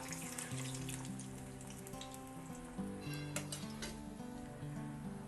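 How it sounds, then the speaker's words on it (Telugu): Laddoo dough frying in hot oil gives a steady, close sizzle with scattered bubbling pops, running alone under what sounds like music with sustained tones. "వేగుతున్నాయి చూసారు కదా, ఆ బబుల్స్ అన్నీ తగ్గాయి కదా."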